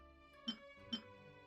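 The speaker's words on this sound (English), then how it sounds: "Shattering a new brick will spawn a merit ball." Two quick, light glassy clinks about half a second apart as bricks shatter in Genshin Impact, faint and crisp over a quiet musical background.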